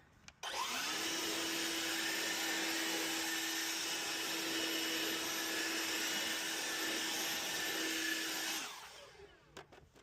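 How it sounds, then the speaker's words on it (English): A leaf blower drying car tires whines loudly and steadily at close range for about eight seconds, then cuts off and spins down. "I'm gonna get a blower and see if we blow it dry what it looks like"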